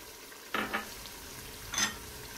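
Beef frying in a pot with coriander, cumin, turmeric and crushed red chilli powders, a soft steady sizzle broken by two brief scraping stirs close by, with no voices.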